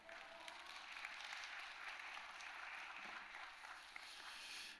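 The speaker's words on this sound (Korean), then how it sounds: "나오실 때 우리 할렐루야 큰 박수로 맞이해 주시겠습니다" A church congregation at an early-morning service claps to welcome a pastor to the pulpit, a steady, fairly faint wash of many hands running throughout with no speech.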